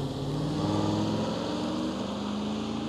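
An electric bike motor runs at full throttle while climbing uphill, giving a steady droning whine that rises slightly in pitch, with rushing wind noise underneath and no talking.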